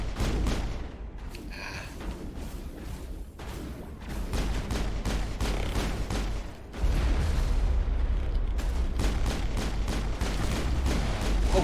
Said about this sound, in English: Freaking missile launcher.